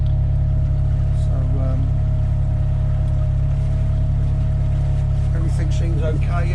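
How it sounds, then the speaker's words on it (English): Steady, even drone of a Shetland 4+2 boat's engine running while cruising, close and continuous throughout, with faint background sounds over the top. "everything seems okay, engine's running nicely"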